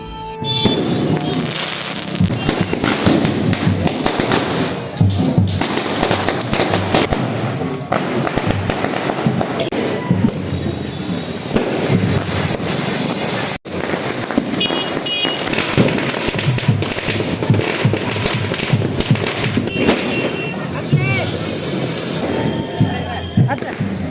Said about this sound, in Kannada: ಪಲ್ಲಕ್ಕಿ ಬರುವಂಥ ಟೈಮ್ದಾಗ ಇಷ್ಟು ಪಟಾಕಿ ಹೊಡಿತಾರಲ್ಲ